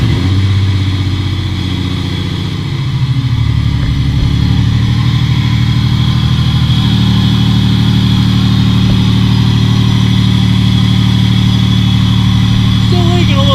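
A Ford Mustang V6 engine idles steadily after starting, a close, continuous low rumble that holds even throughout, with a few brief voices underneath.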